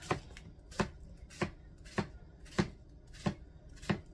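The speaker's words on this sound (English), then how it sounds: "So I cut it in half" A knife chopping cucumber on a cutting board for a creamy cucumber salad, seven crisp, evenly spaced knocks at a steady rhythm, close and fairly quiet.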